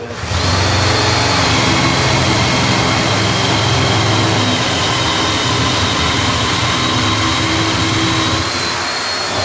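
A drill with sharp new bits bores into hard oak during a newel post installation, a loud steady roaring whir that holds for several seconds before easing off.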